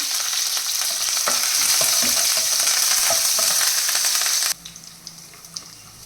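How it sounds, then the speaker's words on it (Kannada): Chopped green chilies and curry leaves crackle and sizzle loudly in hot oil in a pan, with light stirring clicks, before the frying suddenly drops to faint pops. "ಹೆಚ್ಚಿಟ್ಕೊಂಡಿರೋ ಹಸಿಮೆಣಸಿನ್ಕಾಯಿ ಮತ್ತು ಕರಿಬೇವನ್ನು ಹಾಕ್ಕೊಳ್ಳೋಣ. ಅದು ಹುರಿದ ಮೇಲೆ"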